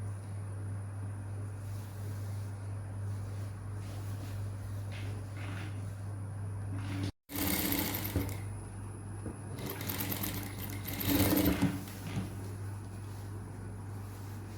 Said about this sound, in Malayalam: നമുക്കിതാ ഇവിടെ നിന്ന് സ്റ്റിച്ച് ചെയ്ത് തുടങ്ങാം.